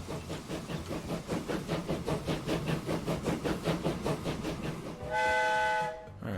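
A locomotive in the video game Transport Fever 2 rolls along with a rhythmic clickety-clack of wheels, then sounds a loud sustained horn near the end.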